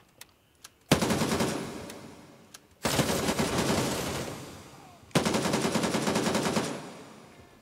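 Three long bursts of rapid automatic gunfire from the Gray Zone Warfare shooter game, loud and close, with short gaps between bursts and a few single shots before the first burst.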